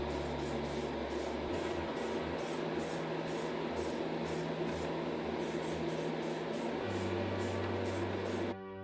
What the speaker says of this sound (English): before I move on to clear coating the castings